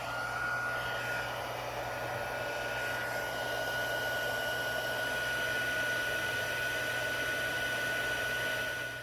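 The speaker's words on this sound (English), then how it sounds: "I'm going to use my Stampin' Up heat tool." Stampin' Up craft heat tool blowing hot air onto embossing powder, a steady loud whooshing fan roar with a faint high whine running unbroken throughout.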